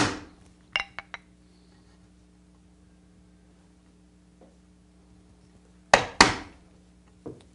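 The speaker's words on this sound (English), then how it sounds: "With the chisel, I'm going to define the depth of the mortise." A chisel is struck into wood to set the depth of a hinge mortise. A few sharp, close knocks and taps are spread apart by long quiet gaps over a faint background hum.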